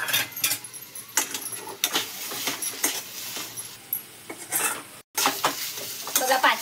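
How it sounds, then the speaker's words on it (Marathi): Potato samosa filling with coriander is stirred and fried in a pan, with intermittent spoon scrapes and clinks over a soft, low sizzle, with a brief dropout near the end. "आपण 5-6 मिनिटं पूर्ण असं तळून घेतली ही भाजी"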